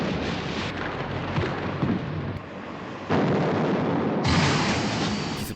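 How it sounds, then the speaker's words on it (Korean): Cannon fire striking a warship in an adventure film, a loud, continuous roar of blasts and rumbling impacts that swells sharply near the end, with no talk over it. "기습적인 상황에서 대포 공격을 받고 선체가 파손되는 비상사태"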